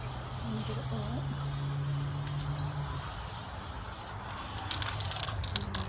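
Aerosol spray can hissing furniture finish onto a 1950s piece during restoration, a long continuous spray up close, with a person talking over it and a few clicks and rattles toward the end.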